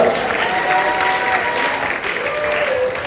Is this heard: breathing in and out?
no